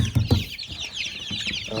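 Young chickens in a brooder cluck and peep steadily, with high chirps layered over low clucks, close and continuous, and a voice murmurs faintly in the background.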